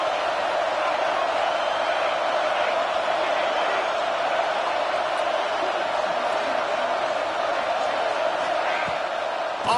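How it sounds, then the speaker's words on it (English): A football stadium crowd roars steadily on a third down, a dense, sustained wall of cheering and noise that stays loud and even throughout, with no breaks. "Big third down as the crowd gets behind this defense."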